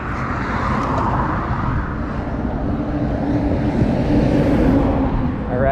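Lectric XPeak electric bike ridden uphill outdoors, a steady motor drone mixed with rushing wind and road rumble, loud and continuous throughout with no talking.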